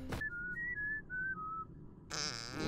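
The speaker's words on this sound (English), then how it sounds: "Oh, there's a fart at the end." A short whistled melody from the Oddworld New 'n' Tasty video game ends in a sudden, loud, buzzy fart sound effect, all alone with no speech.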